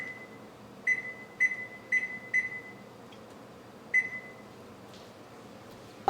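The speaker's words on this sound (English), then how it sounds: "the timer just beeped after that 7 more minutes" An oven timer in a home kitchen, where peach cobbler is baking, beeps five times in a short uneven series, each tone clear and moderately loud above a faint steady room hum.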